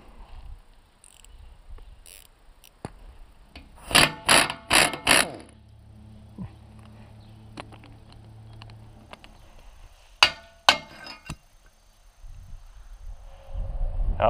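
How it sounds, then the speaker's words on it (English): Bolts are worked loose on the wings of a farm harrow: bursts of sharp metallic ratchet clicks and clanks come in two clusters with quieter mechanical handling between them and no talking. "now I just got to loosen the bolts up"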